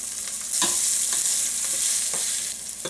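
Green beans fry in a pan over the fire with a loud, close, continuous sizzle, broken by a few brief scraping stirs.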